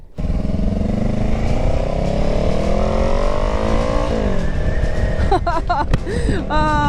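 Honda Rebel 500 motorcycle fitted with a new aftermarket exhaust, riding along with a loud, steady engine drone and rising revs that shift near the end, heard close and continuous.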